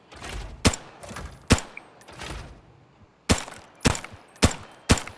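An M16 rifle in the shooter game Arena Breakout fires in single shots, seven sharp loud cracks spaced irregularly, with short gaps and a longer pause between the first and second groups.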